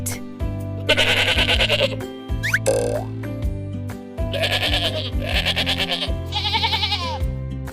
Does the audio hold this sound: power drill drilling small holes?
no